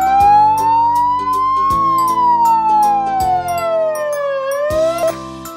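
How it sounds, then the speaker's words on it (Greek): An ambulance siren wails loud and close, a single slow tone gliding up and down in long sweeps, with no talk. "Το ασθενοφόρο μεταφέρει τους άρρωστους στο νοσοκομείο."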